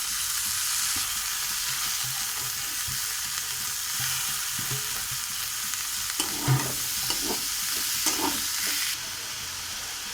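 Carrots and peas go into a pan with vegetable chowmein and stir-fry in a steady, close sizzle, with a few spatula scrapes and clinks midway before the hiss drops slightly at the end.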